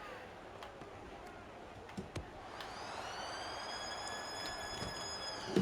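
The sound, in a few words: siren sounding at a rugby league match (Titans v Dolphins)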